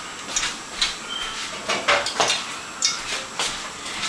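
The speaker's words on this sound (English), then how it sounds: "Let me get my pan." A metal pan is picked up and handled in a home kitchen, giving a few sharp clanks and scrapes against other cookware at irregular intervals, close by and with no talking.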